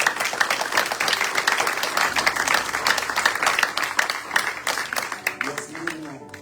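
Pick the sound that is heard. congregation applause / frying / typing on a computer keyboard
congregation applause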